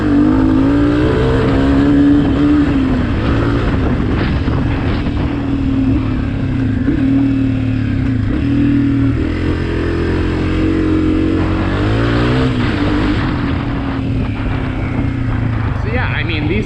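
A 2023 Honda CRF250F dirt bike engine drones steadily while riding in second or third gear, loud and close with a throbbing mid-pitched tone that rises and dips slightly with the throttle, and someone talks over it throughout.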